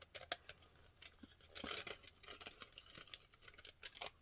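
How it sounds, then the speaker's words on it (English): Scissors snipping through aluminum foil in a quick, uneven series of crisp, crinkly cuts. The cuts are close but quiet, with no voices. "This might sharpen my scissors, too. Although this is just aluminum foil."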